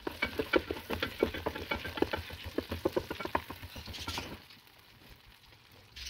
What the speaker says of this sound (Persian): یه مقدار خیلی کم سیب زمینی ها رو با کره تفت میدم